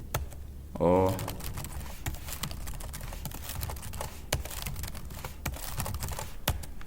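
Someone types quickly on a computer keyboard, a close stream of light, irregular key clicks with a brief spoken word near the start.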